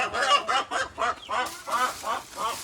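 A rooster calls nearby in a quick run of about nine harsh, clucking bursts at an even pace.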